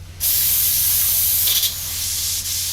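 An airbrush sprays paint onto a Star Destroyer model in a loud, steady close hiss that starts abruptly and holds throughout, with a brief surge midway.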